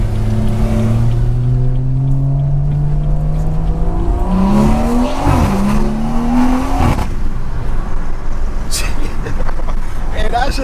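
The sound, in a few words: BMW 340i car engine accelerating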